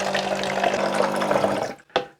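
Xiaomi automatic bottled water pump dispensing water, a steady rushing pour lasting under two seconds before cutting off, followed by a short soft splash or click.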